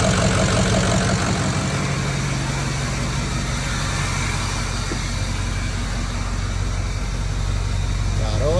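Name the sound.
Ford 6.0 Powerstroke diesel engine running, turbo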